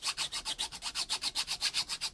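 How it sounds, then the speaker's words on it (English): A sharpening stone is rubbed back and forth to file a small nub off a machined metal part, making a steady, quiet, rhythmic rasp of about a dozen even strokes. "I'll stone off that last nipple"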